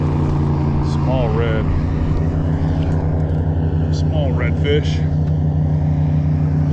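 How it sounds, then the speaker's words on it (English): An airboat's engine and propeller roar across a coastal marsh as a loud steady drone, while someone speaks briefly and seabirds call in the background. "Poor timing with that airboat."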